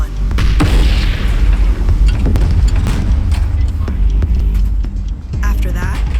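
Artillery rounds exploding among smugglers' tanks make heavy, rolling booms and continuous rumble, loud and dense, with sharp blasts breaking through a sustained roar of battle.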